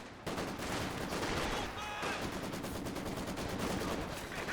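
A Maxim machine gun in the Company of Heroes strategy game fires dense, continuous automatic bursts, steady and sustained throughout, fairly quiet in the mix with faint commentary beneath.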